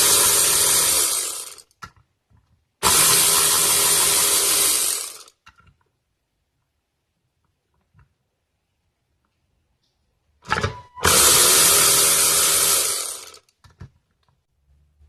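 Hand tools work on a BMW E46 330ci dual VANOS unit, giving three loud bursts of rapid clicking and ratcheting close by, separated by stretches of near silence.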